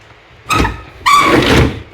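A door is pulled open at close range in two loud bursts, a short scraping rattle followed by a longer squeaking, grinding slide, with quiet room noise before and after.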